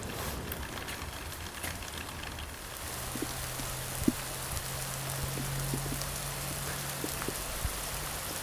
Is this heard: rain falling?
yes